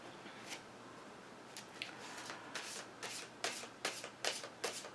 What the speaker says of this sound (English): So I'm going to pull an oracle card from the Earth Wisdom Oracle deck